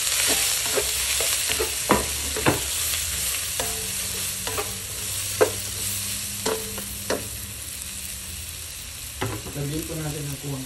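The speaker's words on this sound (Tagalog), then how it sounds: "Sabay na natin yung ating bawang at sibuyas." Garlic and onion sauté in butter in a pan for goat kaldereta, with a steady close sizzle broken by repeated sharp scrapes and clinks of a spatula stirring, and no voices.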